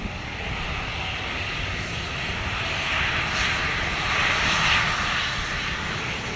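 A Sun PhuQuoc Airways Airbus A321 lands on runway 25R, its steady broad engine roar heard from a distance and swelling slightly as it passes.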